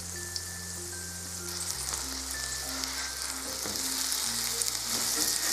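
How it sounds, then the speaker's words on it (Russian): Steady crackling sizzle of cheese flatbreads frying in hot oil in a pan over above-medium heat, continuous and close, with a low hum and faint tonal music underneath. "Жарить лепешки необходимо на огне выше среднего."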